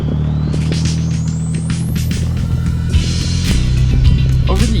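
A lifted Toyota 4Runner with its tires aired down to about 15 psi crawls over dirt ruts. A steady, loud low engine drone continues throughout, with a rising whine, scattered knocks and rattles, and a few sharper bumps near the end.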